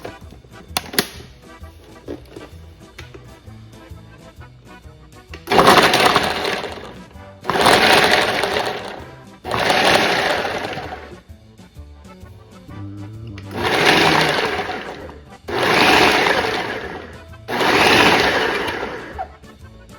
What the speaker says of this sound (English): I'm just gonna chop that up really quick with the chopper